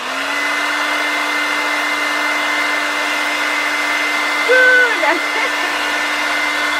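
A hair dryer blows with a steady, loud whir throughout, and a voice speaks briefly near the end over the drone.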